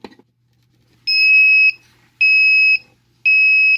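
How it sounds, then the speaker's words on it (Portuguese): Three loud, steady electronic beeps from an Intelbras Digiprox SA 202 access controller powering up, each about half a second long and evenly spaced, sounding alone after a brief soft click. "Ao energizar, a gente vai ouvir uns bips."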